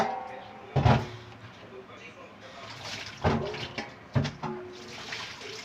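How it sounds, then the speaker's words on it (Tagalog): Tap water runs steadily while eggplant is washed in a home kitchen, a soft continuous rush with a few louder splashes and clunks of handling, with a voice speaking over it. "Aking huhugasan ang talong"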